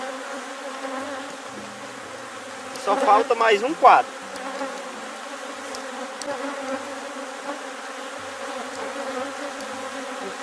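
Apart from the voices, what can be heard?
honeybees buzzing on a hive frame during colony split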